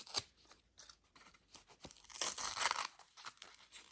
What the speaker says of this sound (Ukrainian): Відкриваємо пакетик з, е, з Авророю.